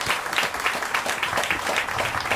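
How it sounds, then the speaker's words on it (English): An audience applauds at the opening ceremony for the new Cuyahoga County Diversion Center. The clapping is sustained and even, with many hands making a close, continuous wash of sound and no voices rising above it. "give a round of applause to everyone here who has made this a reality"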